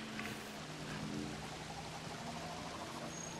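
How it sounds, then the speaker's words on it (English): Rushing waterfall in the video game Robinson: The Journey, a steady broadband wash of falling water that holds evenly through the whole stretch with no talk over it. "Ooh, waterfall."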